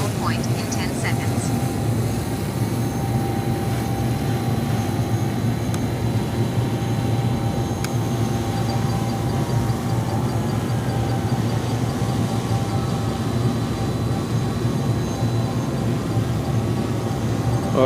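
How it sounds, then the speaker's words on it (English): A DJI drone's propellers drone steadily over an oceanfront, a continuous loud whir with wind-like noise throughout, while a person talks over it. "That's the propeller, because I haven't changed the propeller out on it yet."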